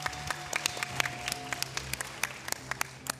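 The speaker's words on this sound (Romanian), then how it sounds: "Care merită aplauze din plin." A television talent show audience applauds live, steady claps blended with crowd noise, with sharp individual hand claps popping out over a continuous bed for a few seconds.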